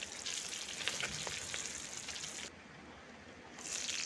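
Steady, close sizzle of bata fish frying in oil, crackling throughout and dropping briefly quieter near the end before rising again.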